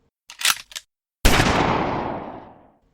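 Gunshot sound effect: a few brief clicks and mechanical snaps, then after a pause one loud sharp blast that decays into a long rolling echo.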